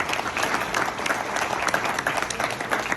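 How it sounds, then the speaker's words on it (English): An audience applauds at a public gathering, a steady, dense clapping from a crowd that fills the whole three seconds with no talk over it. "Can we have a round of applause for Shafqat?"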